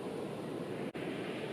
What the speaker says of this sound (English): Enjoy the ever-repeating rhythm of the waves.